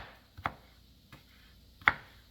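A knife chops cooked stove top potatoes on a cutting board, three distinct, widely spaced chops, close and fairly quiet, with no talking.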